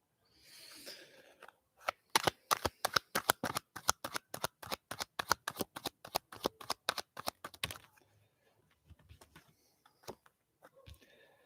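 Tarot cards riffle-shuffled close up, a fast run of crisp flutters lasting several seconds, with softer handling rustles before and after and no one speaking.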